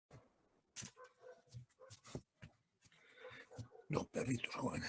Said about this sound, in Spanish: Los perritos jóvenes, ¿eh?